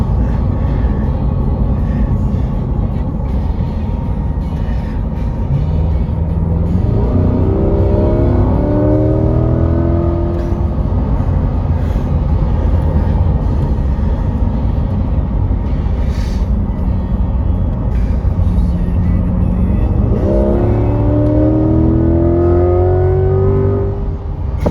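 A new mid-engine Corvette accelerating hard, engine rising through two clear upshift sweeps over a loud steady rumble of road and cabin noise, heard from inside the car.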